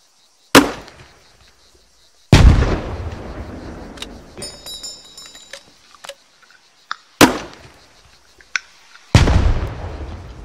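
An M320 grenade launcher in the RHS mod of a military video game fires several times; each shot is followed by a loud, booming detonation that decays into rumbling echoes, with scattered clicks and handling noises in between.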